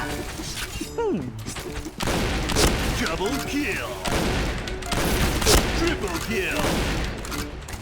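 Rapid bursts of gunfire from the online shooter Point Blank ring out repeatedly across the clip, loud and close, with a player talking excitedly over the shots.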